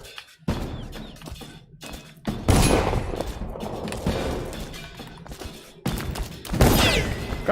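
Gunfire in Dishonored lands as sharp, heavy bursts separated by brief gaps, loud and close, with crashing impacts and thuds between the shots.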